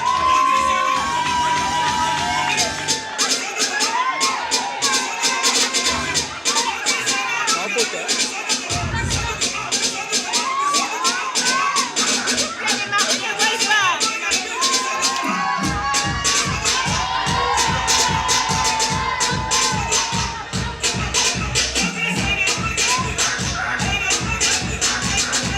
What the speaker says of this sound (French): applaudissez pour les enfants.